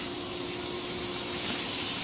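Butter melting in a hot skillet that had been heating for a few minutes, giving a steady, close hiss and sizzle that holds evenly throughout, with no talking.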